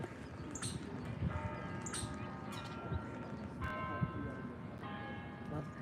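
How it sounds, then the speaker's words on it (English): Church bells ring out in the evening outdoors, several distinct struck tones with lingering hum, heard at a moderate distance over a noisy background with birds. "bells. Do you hear?"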